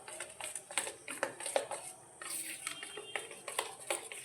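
A whisk rattles quickly through a batter of flour and Eno powder in a bowl. It gives close, uneven metallic clinks and taps in short bursts, with a brief pause midway.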